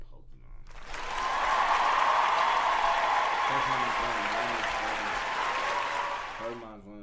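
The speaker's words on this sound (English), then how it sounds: "Clap it up for Pokemon." Studio audience clapping and cheering for Pokemon, a dense wash of applause building quickly, holding steady for several seconds, then fading out, with a voice starting to talk near the end.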